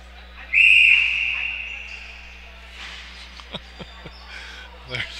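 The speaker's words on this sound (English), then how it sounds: "there's a loud whistle or something." A sharp, loud whistle blast rings out briefly near the start of a Pt. Edward Pacers vs Guelph Regals game, then fades into a quieter arena with scattered thumps and distant crowd noise.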